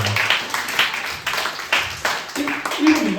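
An audience at a youth church service applauds for students, quick scattered clapping running throughout while voices murmur and call out underneath.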